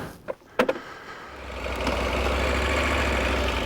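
A KTM 890 Adventure R motorcycle engine starts after a few clicks and settles into a steady low idle rumble, close and continuous.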